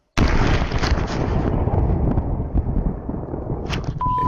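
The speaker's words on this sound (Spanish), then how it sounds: "¿Escucharon esa explosión?" A meteorite impact explosion, a sudden loud burst followed by a long heavy rumble that slowly fades, with faint crackles near the end.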